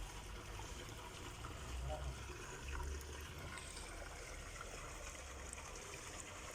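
Irrigation water running along an organic kitchen-garden bed of winter vegetables, a faint continuous trickling flow with a soft low rumble, steady throughout, with someone talking over it.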